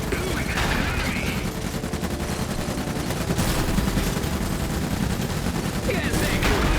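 Sustained machine gun suppressing fire in the Iron Harvest strategy game, a dense continuous rattle of rapid shots filling the whole stretch at steady loudness, with occasional game voice lines over it.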